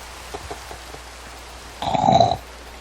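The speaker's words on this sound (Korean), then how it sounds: "아침이 됐는데도 비가 오구만" Rain falls steadily in a survival game, a soft continuous patter broken by a brief louder rushing burst.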